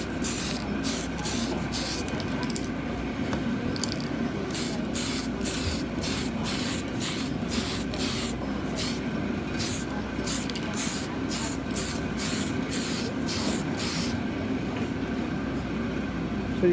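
An aerosol can spray-paints a clear Lexan RC car body in light coats, heard as a series of short, sharp hissing bursts in a quick, fairly regular rhythm over a steady background rumble.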